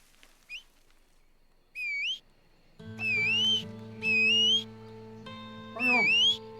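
In Red Dead Redemption 2, a rider whistles for a horse: several sharp, rising whistles ring out in a row, clear and loud, over a low steady hum from the game.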